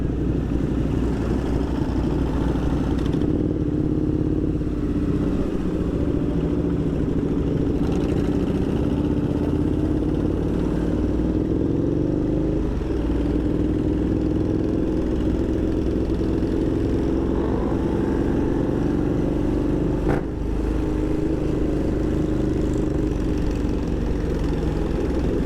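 Many motorcycles on an end-of-season group ride produce a steady, continuous engine drone with low rumbling idle and riding tones, loud and unbroken throughout, with minor swells in pitch.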